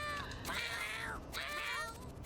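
A cat in the video game YIIK lets out two drawn-out meows, each rising and then falling, heard clearly against faint background sound.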